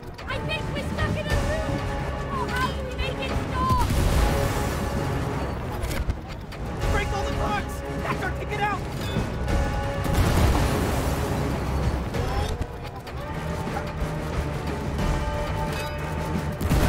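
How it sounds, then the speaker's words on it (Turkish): Clocks blowing up in the co-op video game It Takes Two, heard as dense booms and crashes layered over game music and effects, with players talking throughout the steady, loud mix. "Biri patladı."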